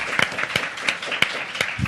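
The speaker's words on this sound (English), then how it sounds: "Please give our panelists a round of applause" An audience at a panel discussion on contemporary Latino communities applauds the panelists, a steady patter of many hands clapping with a few sharper claps standing out.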